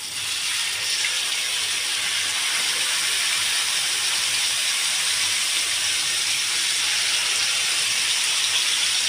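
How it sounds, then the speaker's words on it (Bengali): Marinated fish fries in a large hot wok, giving a steady, loud, continuous sizzling hiss with no pauses and no voices. "মাছটাকে ভেজে নেবেন"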